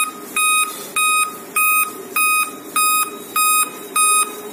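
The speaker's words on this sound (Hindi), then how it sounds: "चूंकि इसमें डिस्प्ले लगा नहीं है इसलिए ये 8 बीप दे रहा है स्पीकर में" Laptop motherboard error beeps with no display connected, a series of evenly spaced loud electronic beeps, about seven in this stretch, each roughly a quarter second long, over steady background noise and no talk.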